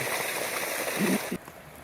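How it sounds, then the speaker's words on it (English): Muddy water running fast into a duck pond inlet, a steady rushing, gurgling flow heard close, with a brief splashy swell before it cuts to quieter flow. "The inlet to the duck pond is running fast with muddy water, making a muddy duck pond"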